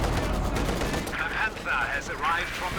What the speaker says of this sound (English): The machine gun there though as well